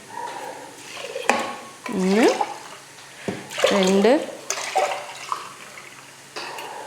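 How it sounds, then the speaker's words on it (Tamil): Water poured from a vessel into rice in a cooking pot, splashing and gurgling in a few separate pours, while a person talks between and over them. "இப்போ தண்ணி ஊற்றிக்கலாம்."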